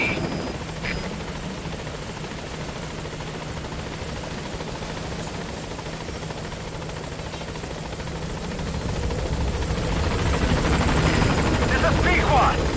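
Metal Gear Solid V game audio of a support helicopter arriving at a landing zone: a continuous rotor thrum and engine roar that grows louder toward the end, with radio voices speaking over it.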